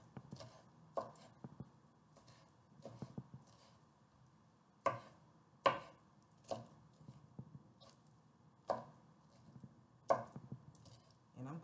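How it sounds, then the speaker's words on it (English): Knife chopping raw shrimp on a cutting board for ceviche, a series of sharp separate chops in loose bursts, close and fairly clear over a quiet room. "just got some more shrimp to cut up."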